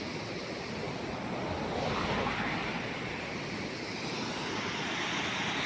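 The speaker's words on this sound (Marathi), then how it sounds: "हा इथे छोटा धबधबा आहे, मस्त वाटतो. लांबून याचा आवाज येत असतो" A small waterfall on the Krishna river by an old temple, a steady broadband rushing of water that stays constant throughout, with no voices.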